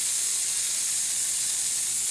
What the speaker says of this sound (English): Really nice steam coming out of this machine.